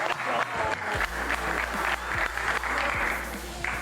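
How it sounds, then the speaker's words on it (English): An audience at an esports championship LAN event applauds loudly and steadily, a dense crowd clapping over the whole stretch while an announcer speaks over it. "Give him a round of applause."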